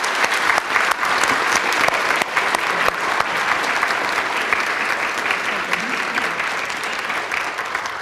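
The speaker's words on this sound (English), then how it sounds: "how about a big round of applause for this wonderful group?" An audience at an interfaith panel event gives sustained, steady applause lasting several seconds, dense and even, with a few voices faintly mixed in.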